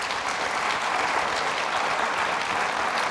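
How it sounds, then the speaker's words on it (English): Audience applause fills a community event hall at the Village Corridor Initiative gathering in Freeport, with steady, dense clapping from a full crowd that continues evenly from start to finish. "Let's give them a round of applause."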